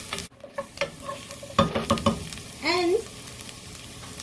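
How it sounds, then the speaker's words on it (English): A spoon stirs mulligatawny soup ingredients in a pot, scraping and clattering in short irregular strokes with a faint sizzle beneath, close by; a voice briefly speaks. "I'm just going to stir it around for a few seconds."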